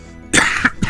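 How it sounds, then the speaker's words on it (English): A single short, close cough bursts out after a brief quiet moment, followed by a smaller second catch of breath in a video game scene. "So good that I had to cough."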